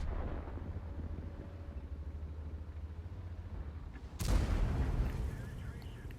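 A tank cannon booms in World of Tanks, firing from an FV215b heavy tank: one loud, close blast breaks sharply over a steady engine rumble and a commentator's voice.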